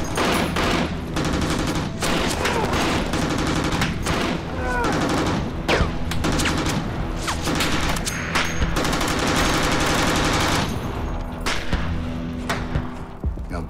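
Sustained automatic machine gun fire from a large weapon echoes through city streets in Ramadi during combat, dense overlapping bursts and thuds with rounds ricocheting, loud and continuous throughout alongside other battle noise.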